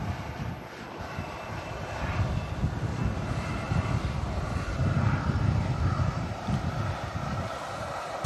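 A jet airliner roars steadily at Manchester Airport on a gusty day, a broad continuous engine rumble with wind buffeting the microphone, fairly loud and sustained with no voices.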